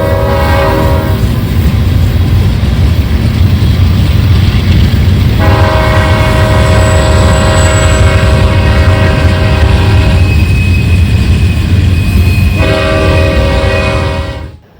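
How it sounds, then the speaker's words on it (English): A train passes loud and close to a campground beside a river at Castella, California. A heavy continuous rumble of railcars runs throughout, and a blaring multi-tone horn sounds twice in long blasts. "I told you those trains were loud."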